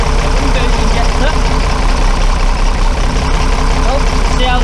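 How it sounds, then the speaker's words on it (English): Engine idling steadily and loudly with one fuel injector loosened by spanner to test it, the running note shifting as the injector is undone; continuous close mechanical rumble throughout. "see how the engine changed tone? That means that injector is working and having an impact on the engine"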